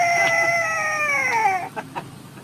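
A 12-year-old boy imitates a chicken with his voice, giving one drawn-out, crowing-like call followed by a few short clucking bursts, close and clear.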